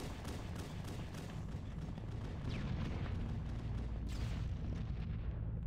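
Rocket explosions in a Halo multiplayer match come through as a steady low rumbling roar with several distant blasts blended into dense, muffled game noise.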